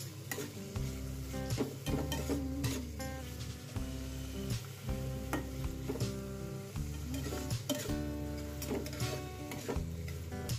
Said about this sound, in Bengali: আমি কড়াইতে তেল দিয়ে পেঁয়াজ আর টমেটোটা দিলাম, আর একটু গোটা জিরে ফোড়ন দিয়ে দিলাম।